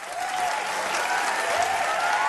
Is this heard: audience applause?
yes